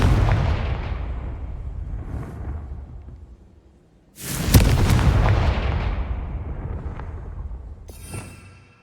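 A Confringo spell explosion from the video game Hogwarts Legacy booms loudly and fades into a long rumbling tail, with a second burst of rumble following partway through.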